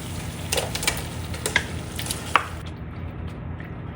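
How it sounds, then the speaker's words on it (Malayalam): Washed chicken pieces go into a pan of cooked-down tomatoes and sizzle steadily, with soft stirring and scraping clicks up close and no talking. "കഴുകി വൃത്തിയാക്കി വെച്ചിട്ടുള്ള ചിക്കൻ ആഡ് ചെയ്ത് കൊടുക്കുക."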